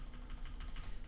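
Cards for the board game Hyperborea being shuffled make a faint, quick, papery ticking that patters steadily for about a second, soft and close.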